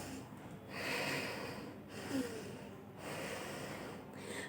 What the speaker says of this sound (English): I want you to perform a small exercise with me, that is of deep breathing